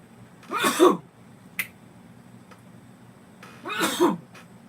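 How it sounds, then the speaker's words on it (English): Two sharp, explosive sneezes a few seconds apart from a person with allergies, loud and close, with quiet between them. "I feel a sneeze coming on."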